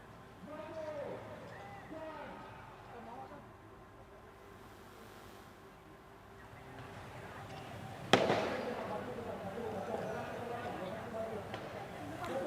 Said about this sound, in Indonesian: Suara petasan sayup-sayup masih terdengar.